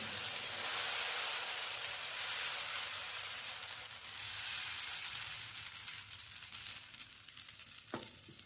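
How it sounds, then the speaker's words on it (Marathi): Moong dal dosa batter sizzling on an oiled pan over low heat, a soft, steady, fairly faint hiss that swells and eases, with a brief clink near the end. "आणि आता हा मी डोसा घालते त्याच्यावर."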